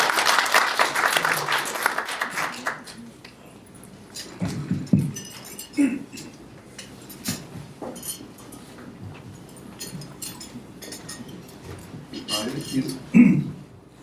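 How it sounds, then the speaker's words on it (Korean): An audience at a construction industry breakfast forum applauds loudly for a few seconds, then the clapping fades into scattered rustling, clinks and someone speaking. "큰 박수 부탁드립니다."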